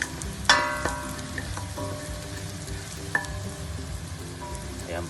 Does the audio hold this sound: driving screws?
no